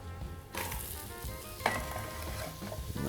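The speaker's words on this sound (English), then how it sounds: "I'm gonna add onions right to it now." Onions hitting a hot stew pot give a sudden loud sizzle that starts abruptly and keeps hissing steadily, with a faint clink of stirring partway through.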